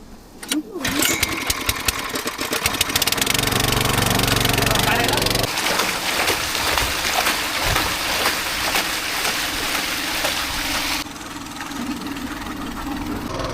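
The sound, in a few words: petrol-powered water pump engine running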